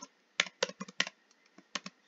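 Keys tapped on a computer keyboard in short irregular bursts of clicks, close and fairly quiet, with no voices over them.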